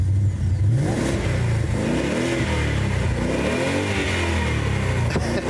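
A supercharged limited edition Ford Mustang V8 fires up and revs hard, a loud, close engine roar that surges and falls through several throttle blips with no talk over it.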